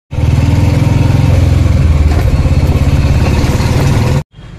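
A parked motorcycle's engine running steadily and loudly up close with a throbbing, even rhythm, then cutting off abruptly near the end before briefly picking up again.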